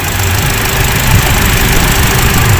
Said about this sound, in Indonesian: mesin halus sekali,